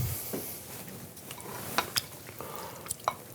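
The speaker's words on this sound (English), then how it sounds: "I'm going to transfer this to a larger bowl." Grapefruit wrap filling is scraped and tipped into a larger bowl, with soft stirring and scraping plus several sharp clinks of utensils against the bowl, close and fairly quiet.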